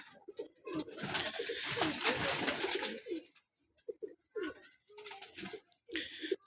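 Pigeons coo repeatedly during vaccination, the soft throaty calls rising and falling with brief pauses and quite close.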